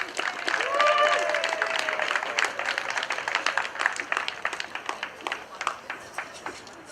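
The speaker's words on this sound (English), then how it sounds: "So please give her a round welcome of applause for Rick and Amy." An audience claps in welcome for two speakers at an event, a dense wash of applause that starts full and gradually thins into scattered individual claps, with a brief voice audible near the start.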